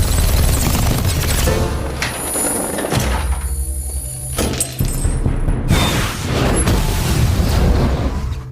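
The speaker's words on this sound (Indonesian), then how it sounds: "ia berhasil menciptakan ledakan dengan memanfaatkan tabung oksigen dan bahan kimia" A film explosion set off with an oxygen tank and chemicals produces loud, heavy booms and rumbling blasts, with sharp bursts and crashes recurring over several seconds, dense and close with no speech.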